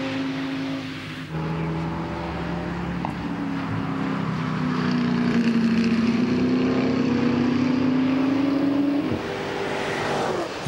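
The Phoenix Audi R8 LMS race car, number 97, runs at the Nürburgring 24-hour race with a loud sustained engine drone, the pitch climbing steadily through a long pull before dropping away near the end.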